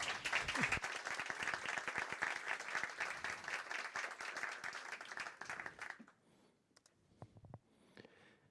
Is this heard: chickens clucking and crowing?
no